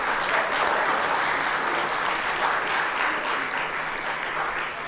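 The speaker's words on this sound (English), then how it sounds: "I'd like to have everyone give a big round of applause for Stuart Goosen" A crowd at an annual meeting gives a steady round of applause, dense even clapping that holds at a strong level for several seconds before easing slightly, with no voices over it.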